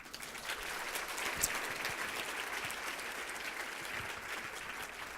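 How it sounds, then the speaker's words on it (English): A luncheon crowd of women at an International Women's Day event claps warmly and continuously, a broad, even wash of applause heard from a distance without speech. "So please give yourselves a round of applause."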